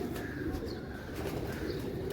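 A pigeon coos softly a couple of times against a low background rumble, faint and fairly close.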